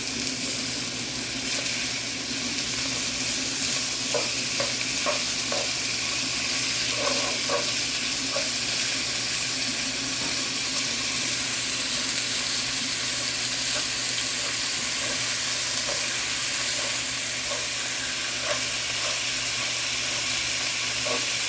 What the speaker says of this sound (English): Place your meat in the hot pan.